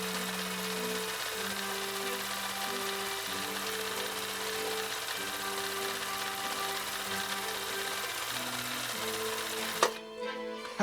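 A Husqvarna Viking 2000 sewing machine runs a cam stitch pattern, a loud steady mechanical whir with shifting rhythmic tones, close up, ending with an abrupt stop near the end.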